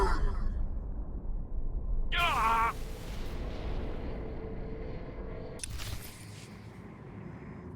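Eternal Fleet warships open fire in the game Star Wars: The Old Republic, a heavy, rumbling barrage with booming blasts and a whining energy burst, under a dense cinematic din.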